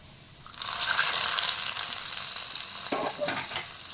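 Loud sizzling of cashews and raisins frying in a pan for moong dal payasam, steady crackle starting abruptly, with brief stirring clatter near the end.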